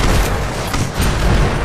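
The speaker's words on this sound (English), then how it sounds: "Don't walk in front of me when I'm firing rockets." Rockets fire in the Hyper Dash video game, giving a brief, loud burst of booming blasts.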